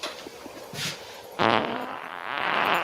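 Fart sounds come in two bursts, a short one and then a longer, louder rasping one that flutters on for more than a second, close and prominent with no voices over them.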